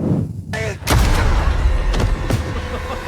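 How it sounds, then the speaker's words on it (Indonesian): Gunshot in a film scene, a sharp boom followed by loud thumping reverberant impacts and dense action noise throughout. "Dan Ellie pun terpaksa menembak dirinya sendiri"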